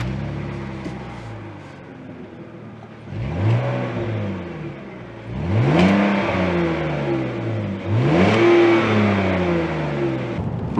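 BMW Z4 roadster pulling away on a countryside drive: the engine revs up through several rising gear pulls, each building in loudness, heard from inside the car with steady road and wind noise and no talking.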